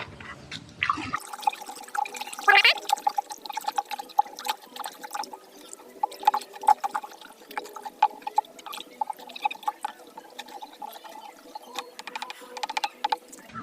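Liquid fertilizer solution for chili plants grown in polybags, stirred in a container; irregular close sloshing, splashing and dripping water after a brief louder start.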